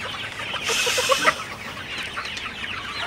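Sonali or broiler hens cluck close by in a short burst during sweltering heat, with a few sharp higher calls among a low, continuous flock murmur.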